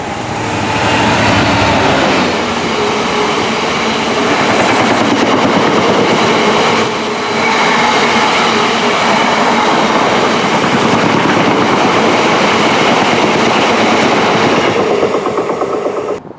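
A West Midlands Railway train runs through Widney Manor Station on the Snow Hill lines, a loud sustained rumble and rattle of wheels and carriages that stays close and continuous before easing off at the end.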